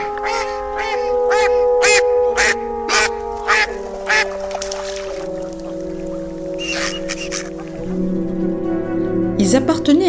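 Ducks quack in a steady run of repeated calls, close and loud, over sustained music notes, with a flurry of quacks near the end.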